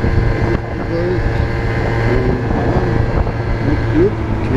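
Steady, roaring wind buffets the microphone throughout, a dense low rumble with a few faint tonal squeaks in the background.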